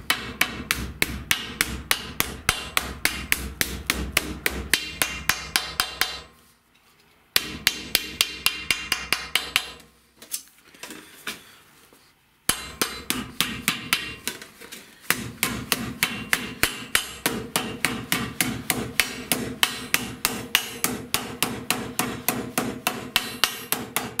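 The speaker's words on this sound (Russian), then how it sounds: "линию 6 миллиметров по краю оправки молоточком, либо киянкой, либо молоточком, либо как японские мастера бруском деревянным" Small hammer tapping the edge of a sheet-metal dustpan blank over a mandrel, a steady run of sharp, close metallic strikes in quick rhythm, pausing twice briefly before resuming.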